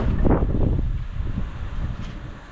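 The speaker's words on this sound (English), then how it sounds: "it's super windy" Strong wind buffets an outdoor microphone in loud, uneven low rumbling gusts that swell and fade, with no one speaking.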